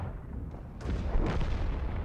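A T92 self-propelled artillery gun fires in World of Tanks, a deep boom landing partway through, followed by a rumbling tail under steady low engine drone.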